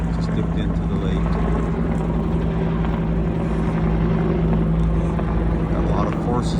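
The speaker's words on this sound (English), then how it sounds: "another helicopter with a bucket on it just dipped into the lake" A firefighting helicopter carrying a water bucket works over a lake during a forest fire, its steady rotor rumble and engine drone loud and continuous beneath intermittent talk.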